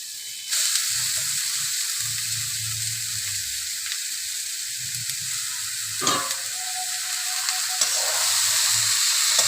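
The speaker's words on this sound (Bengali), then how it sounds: "চিনি দিয়ে দেবো দিয়ে দেবো বাঁধাকপি" Steamed cabbage goes into a hot pan with sugar for a fish-head cabbage dish and fries with a loud, close hiss that starts abruptly. Stirring clatters through the sizzle, and a low hum runs underneath.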